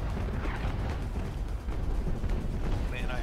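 Heavy booming cannon fire in a naval sailing-ship battle game, a dense rumbling barrage of broadside shots that continues steadily throughout with little pause.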